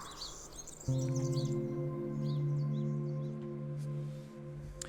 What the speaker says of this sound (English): The thudding scares away the birds. They call loudly, starting the cacophony of throats and flapping wings.